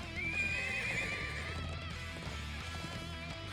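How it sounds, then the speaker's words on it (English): Thoroughbred war horses gallop and neigh in the game Trails of Cold Steel 4, their hooves drumming under a sharp, prominent whinny. "Thoroughbred war horses from the Bardius family's own stables."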